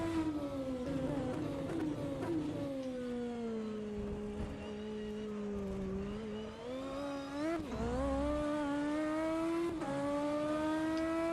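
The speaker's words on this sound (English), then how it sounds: "Welcome to the BMW M4 Class DTM at Monza." A BMW M4 Class 1 DTM race car at Monza in rFactor 2 drones loudly and steadily at high revs, its engine pitch dipping briefly with gear changes and braking before climbing again, with no one talking.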